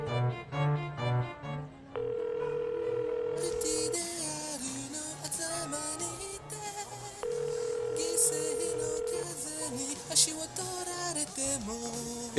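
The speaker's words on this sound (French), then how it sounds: "Je peux l'appeler tout de suite pour qu'elle me donne le vrai nom de Ryuga." A phone dials out with a string of short electronic tones and a held beep, set against background music and a voice speaking in French.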